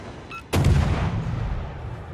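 Warship turret guns firing in a naval video game as a Tier 8 Kiev comes under fire: a single loud, close cannon boom after a brief faint tone, followed by a long rumbling tail.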